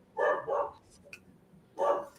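A dog gives three sharp barks: two quick ones in succession, then a pause and a third, moderately close and clear against a quiet background.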